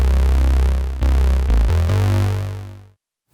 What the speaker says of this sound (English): I think I want to add in some of this like distortion to give it some more harmonics and oomph